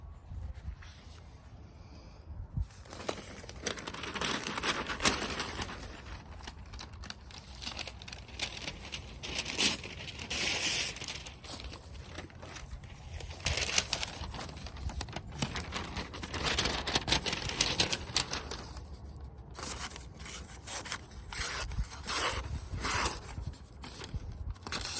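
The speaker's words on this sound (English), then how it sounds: "I'd be willing to bet you I could cut some paper right now" An EDC knife freshly sharpened on a brick slices through paper, giving a long run of dense scratchy rasps and crinkles with irregular strokes, close and continuous.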